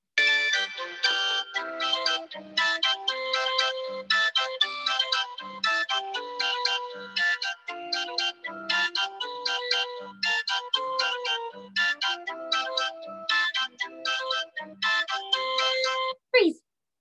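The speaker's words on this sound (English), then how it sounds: "Let's listen to some more circus music." Bright, bouncy circus music played for children at circle time, a plinking melodic tune with a regular oom-pah bass pulse, loud and clear, ending abruptly.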